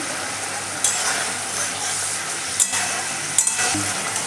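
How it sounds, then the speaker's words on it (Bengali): Steady sizzling hiss of spice paste frying in a pan for a potato and turnip curry, with green peas and green chillies, with a few brief scraping stirs breaking through; no voices. "এবার মশলাটাকে আমি ভালো করে কষিয়ে নেব"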